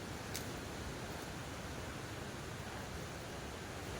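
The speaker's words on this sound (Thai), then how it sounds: "ตรงนี้คือน้ำตก" A forest waterfall in the rainy season pours with a dense, unbroken roar of rushing water. It stays even and close throughout, with no voices.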